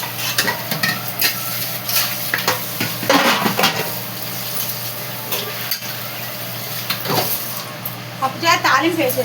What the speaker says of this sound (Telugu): పప్పుచారు తాలింపు వేసేసుకోండి.